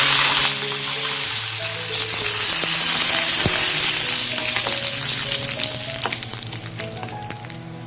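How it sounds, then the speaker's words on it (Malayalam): Cumin and curry leaves sputter in hot oil with a loud, close, crackling sizzle that flares sharply early on, then settles into steady frying with scattered pops as it tapers. "ജീരകം മൂത്ത് വരുമ്പോൾ നമുക്കതിലേക്ക് പകുതി കറിവേപ്പില"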